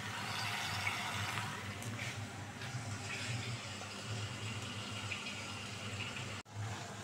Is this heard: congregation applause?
no